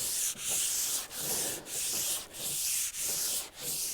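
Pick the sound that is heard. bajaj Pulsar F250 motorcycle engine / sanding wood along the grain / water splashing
sanding wood along the grain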